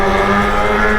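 Kawasaki ZX motorcycle exhaust roaring loud and steady, a dense, harmonically rich engine drone holding at high revs throughout the short burst, with no talking.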